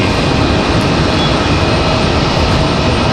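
Delta Airlines jet aircraft moving at Raleigh-Durham International Airport, a loud, steady broadband engine roar that holds constant through the short stretch with no voices.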